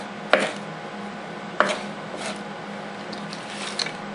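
A Benchmade 8600 Bedlam AXIS automatic knife slices through baling twine in two quick, crisp cuts a second or so apart, each a sharp snap close up, followed by faint rustling and small clicks with no talking.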